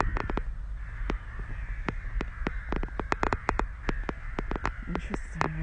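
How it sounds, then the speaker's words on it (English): Crows caw repeatedly in Gyumri, Armenia, a flock of loud rasping calls coming in quick irregular bursts over steady low background noise. "The first week, crows fucking flocking everywhere"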